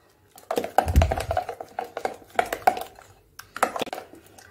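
A spoon clinks and scrapes against a bowl as white sesame seeds and whole cumin are stirred together, a run of close, uneven taps and rattles with short pauses between strokes.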